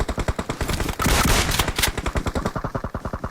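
Rapid automatic gunfire from a machine gun sprays in a battle royale video game match, a dense loud burst of fast evenly spaced shots that briefly merges into a continuous roar before the rhythmic shots resume.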